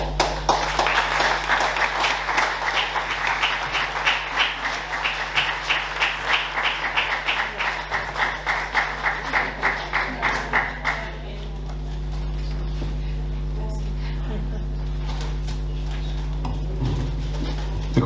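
An award ceremony audience applauds with steady, dense clapping for several seconds. The clapping then fades out, leaving a low background hum.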